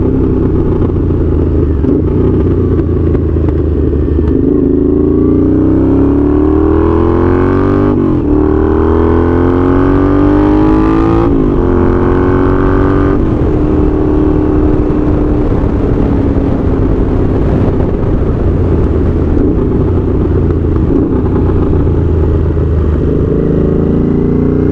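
A Honda GL650 motorcycle fitted with knobby tires rides along, its engine droning loud and close with repeated rising revs through the gears before settling into a steady cruise, no talking.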